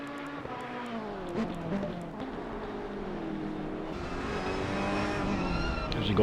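A Ferrari GT race car in the Assetto Corsa Competizione video game, heard on board at the Misano track, drones at steady moderate volume, engine pitch climbing as it accelerates onto its first lap.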